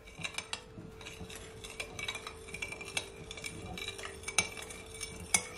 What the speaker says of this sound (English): Also gonna add my sugar. Want to give it a stir.